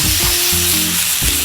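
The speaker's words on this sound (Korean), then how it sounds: "이렇게 지글지글 소리가 나야지 됩니다." Steady, dense sizzling of shredded dried pollock frying in hot oil, close and fairly loud, with a low hum and a few clatters underneath.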